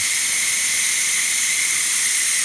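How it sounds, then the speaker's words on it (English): Steam vents from the pressure release valve of a Ninja Foodi pressure cooker after cooking baby back ribs, a steady, loud high-pitched hiss that holds without a break throughout. "go up there and release all the steam out of there"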